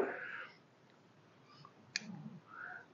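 Clippers trim the branches of a jade tree, a few faint clicks and one sharp snip near the middle, close but quiet in a hushed setting.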